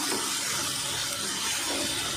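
Water pours into chicken cooking in a pan with chilli, a steady close, broadband splashing hiss that runs without a break and with no voices.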